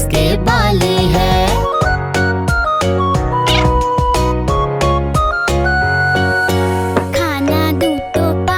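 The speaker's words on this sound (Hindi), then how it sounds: "बिल्ली मैंने पाली है" A pet cat meows in short sliding calls set within a loud, bright children's nursery rhyme with dense tuned instruments and bell-like jingles throughout.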